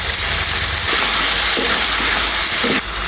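Goat meat sizzles steadily in a hot pan with ginger and garlic paste, salt and dried chili powder, a close, continuous frying hiss with soft stirring scrapes and no talking.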